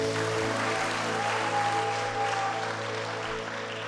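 A church congregation claps steadily and densely throughout, blended with sustained music underneath and no break in the sound.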